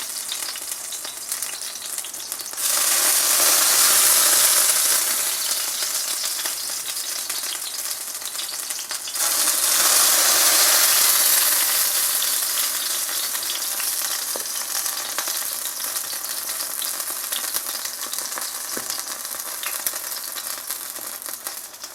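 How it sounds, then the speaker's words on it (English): Pot stickers frying in a pan, a loud steady sizzle that swells sharply twice as dumplings hit the hot oil, then settles into a continuous crackling hiss, with no voices. "they only need 2 or 3 minutes to get that brown sizzle"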